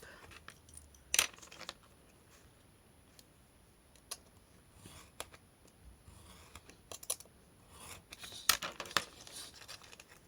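Scissors cut craft paper in two with scattered short snips and clicks, quiet and close, separated by pauses.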